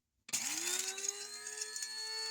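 A spice grinder starts abruptly and whirs loudly while grinding brittle dehydrated red onion skins, its motor pitch rising quickly and then holding a steady high whine with a gritty rattle.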